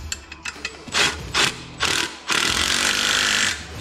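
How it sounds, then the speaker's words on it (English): A ratchet fitted with a 13 mm socket tightens a nut on a strut spacer for a 2002-2010 Porsche Cayenne. A few quick clicks lead into longer rasping bursts of ratcheting, loud and close, with no talking. "I'm gonna use the 13 millimeter socket on the nut and then a 10 millimeter wrench on the bolt."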